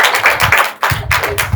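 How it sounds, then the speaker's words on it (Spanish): Short audience applause at a campus talk in León, Mexico, a few uneven bursts of clapping with a brief dip in the middle, close and loud. "Un aplauso, bravo."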